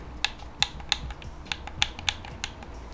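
Sharp plastic clicks of Xbox Series X controller buttons, about eight crisp presses at an uneven rhythm, close and distinct over a faint background hum.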